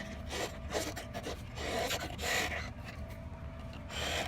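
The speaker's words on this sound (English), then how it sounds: "giving it a couple of good turns and pulling it out." Bolt being turned and worked out of a vehicle suspension joint during a bump stop and lift install, a faint close scraping, rasping rub in uneven strokes, no talking.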